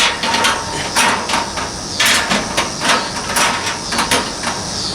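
Metal grill grates fitted into a Pit Boss Whiskey Still smoker during a burn-in: a rapid run of sharp metallic clanks and knocks, several close together, loud and close by, with no talking over them.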